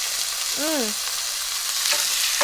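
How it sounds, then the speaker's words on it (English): Pork chops sizzle loudly in hot oil, a constant crackling hiss with a few sharp pops, close up; a brief voice-like sound rises once near the start. "that's exactly what you want to hear when you add in your pork chops"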